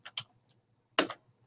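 Keys on a computer keyboard are typed in a quick burst of soft clicks, a short pause, then another clustered pair of taps, close and quiet with no speech.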